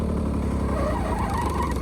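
A small, low-horsepower lawn mower engine revs and whines steadily at close range, its pitch rising and falling slightly, with no voices.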